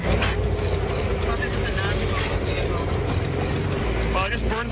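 Old car with a finicky clutch on a long road drive, a loud, rough, steady engine and road rumble from inside the cabin, with people talking over it.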